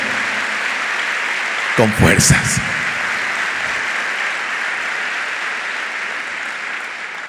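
A church congregation applauds throughout, a steady broad wash of clapping with a brief burst of a speaker's voice cutting over it midway.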